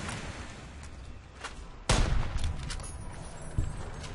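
Modded weapons fire in Fallout: New Vegas, with a few scattered distant reports and then a loud, close, booming shot followed by rumbling echoes and a lighter report afterwards.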